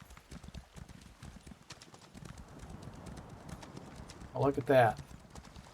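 A horse's hooves clip-clop steadily in The Elder Scrolls Online, a soft rhythmic trot heard for several seconds, followed by a brief louder whinny near the end; someone speaks briefly over it.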